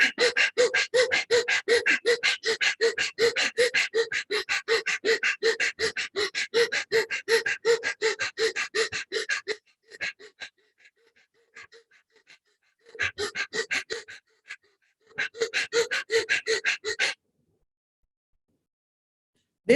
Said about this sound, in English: stick the tongue out to do the panting dog pranayam